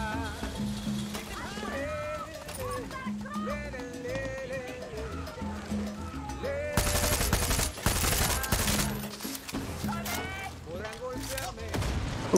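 Mortar blasts and rapid gunfire in the video game Far Cry 6, with bursts of automatic fire and heavy impacts growing louder midway, layered over game music and a voice talking.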